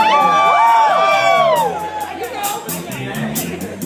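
A concert crowd at Yoshi's in San Francisco yells and whoops during a show, a loud dense wash of many overlapping rising shouts that thins slightly toward the end.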